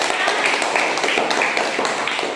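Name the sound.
classroom applause for classmates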